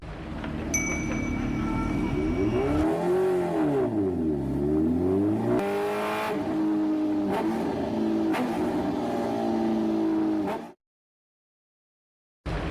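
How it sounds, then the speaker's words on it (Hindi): Heavy motorbike engine revving as a cartoon sound effect, a loud sustained roar that rises and falls in pitch with sweeping revs and a few sharp bursts before cutting off abruptly near the end. "वाह भाई अहमद, कमाल की बाइक है।"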